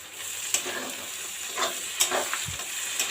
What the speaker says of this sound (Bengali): গোটা জিরে দিয়ে পেঁয়াজ দিয়ে মোটামুটি একটু ভাজা ভাজা হয়ে গেছে